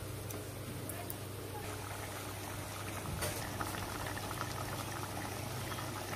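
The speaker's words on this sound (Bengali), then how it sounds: "জল দিয়ে 7-8 মিনিটের জন্য ফুটতে দিব।" Chicken curry with water bubbling in a pot, a steady close simmering hiss and gentle popping that carries on throughout.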